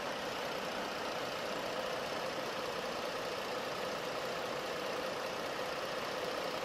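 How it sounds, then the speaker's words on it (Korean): Ford Explorer fifth-generation 3.5 V6 gasoline engine idling, a quiet, smooth, even hum heard steadily with the hood open and no talking. "이 차량 이제 바로 엔진 소리부터 한번 살펴봐 드릴게요"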